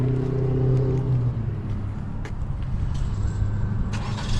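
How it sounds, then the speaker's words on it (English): A 2026 Chevy Equinox engine starts by remote key fob and settles into a steady idle, a close low rumble with faint clicks over it and no voices. "And then it just started on the key fob"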